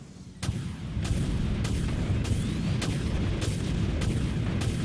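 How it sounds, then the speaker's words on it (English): A torpedo launch from a warship in the video game Dreadnought, a sharp boom followed by a sustained heavy low rumble, with repeated bright bursts recurring about every second over the roar. "Torpedo away."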